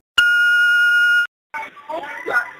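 An answering machine gives one loud, steady electronic beep lasting about a second, then after a short pause a voice begins speaking.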